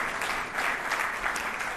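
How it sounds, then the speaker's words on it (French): A church congregation applauds together, a steady, moderately loud spread of many hands clapping with slight swells, no speech over it. "Est-ce qu'on peut applaudir le Seigneur et dire merci Seigneur?"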